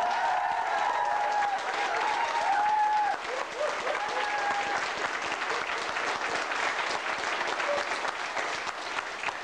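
A crowd at a Korean community gathering gives warm applause during a flower presentation, a dense, steady clapping that lasts throughout, with some voices mixed in.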